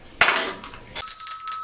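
A bell is rung: a sharp knock is followed by a bright, sustained metallic ring that sustains and slowly fades, close and clear with no talking.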